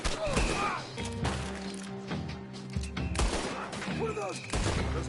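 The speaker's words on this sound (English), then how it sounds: "What are those guns?" Intense gunfight in the Western game Red Dead Redemption 2, loud shots and crashing impacts going off in clusters amid chaotic noise, with voices shouting over the fire.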